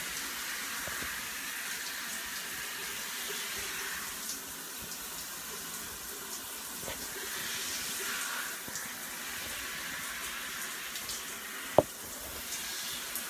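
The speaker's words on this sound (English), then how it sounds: "I'm in the shower." A shower runs continuously, a steady hiss of water spraying and splashing at moderate volume, with one sharp knock near the end.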